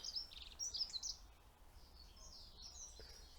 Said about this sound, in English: You've got two birds, one on either side this path, that are actually communicating with each other.